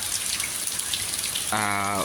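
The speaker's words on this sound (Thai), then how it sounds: "ฝนตกทั้งวันเลยวันนี้" Steady rain falls all day over an elephant village, a continuous hiss of water that holds throughout, with a brief tonal hum joining near the end.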